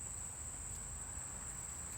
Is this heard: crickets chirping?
yes